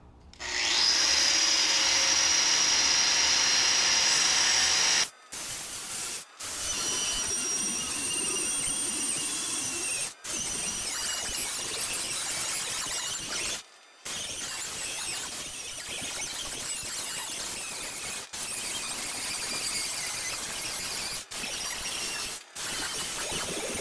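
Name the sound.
cutting metal sheet for a fire pit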